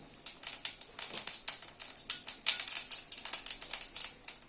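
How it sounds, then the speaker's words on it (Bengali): Cumin seeds and two bay leaves crackle in hot mustard oil in a pan, a dense, steady run of close, bright popping and sputtering with no voices. "তেলটা গরম হওয়ার পরে তেল অল্প করে সাদা জিরে ফোড়ন দিলাম আর দুটো তেজপাতা দিলাম"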